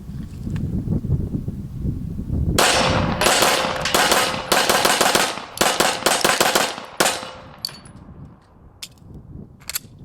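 Pistol fired into a home-made bullet trap, lead round-nose rounds, a rapid string of about a dozen loud sharp shots over a few seconds, then a few scattered later cracks amid wind rumble.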